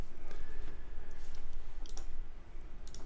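Quiet clicks on a computer keyboard, a few sharp presses of the delete key scattered over a soft hum, with no one speaking.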